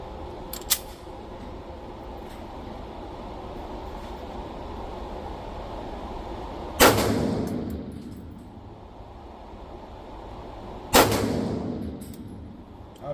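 A Sig P365 XL pistol fires at 25 feet. Two sharp, loud reports ring out about four seconds apart, each trailing off in a brief echo over a low, steady background hiss.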